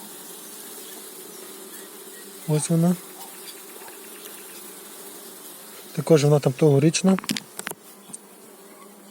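Honey bees buzz in a steady hum around a hive frame while a colony split is made, with two short bursts of close talking over the drone.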